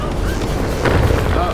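Death bomb explosions in the video game Magicka: a continuous low, muffled rumble of blasts that swells partway through, with the boom lingering rather than cracking sharply.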